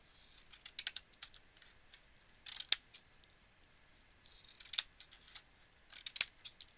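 Scissors snip through paper for handmade card making, several quick bursts of crisp cutting strokes separated by quiet pauses, close and clear with no talking.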